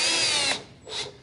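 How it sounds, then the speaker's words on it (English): A power drill drives screws into a wooden board for a bench, a loud high whine for about half a second, then a brief pause and a second shorter burst. "I'm grabbing the board and pushing against the drill really hard so that the drill goes in"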